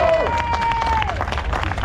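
A crowd at a French superbike race at Nogaro applauds a rider as he finishes, with scattered clapping and cheers and a sharp whistle, at moderate volume in an open-air setting.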